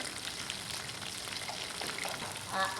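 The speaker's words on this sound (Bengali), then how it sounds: "আমগুলো একটু ভেজে নেবো কেটে সুন্দর করে ভেজে নিয়ে" Mango pieces fry in a pan for a mango pickle, giving a steady, close broadband sizzle with no talk, slightly louder near the end.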